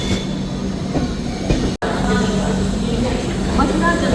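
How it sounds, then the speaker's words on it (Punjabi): A train rumbles and clatters on rails as it arrives at Patiala railway station, steady and fairly loud, with a brief dropout midway and a faint squeal toward the end. "ਸੋ ਆਪਣੇ ਟ੍ਰੇਨ ਪਹੁੰਚ ਚੁੱਕੀ ਹੈ ਪਟਿਆਲਾ ਰੇਲਵੇ ਸਟੇਸ਼ਨ ਤੇ"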